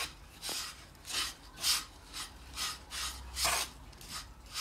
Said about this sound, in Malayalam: പൊടി ആഡ് ചെയ്തിട്ട് ഇതിങ്ങനെ അസലായിട്ട് മിക്സ് ചെയ്തിട്ട്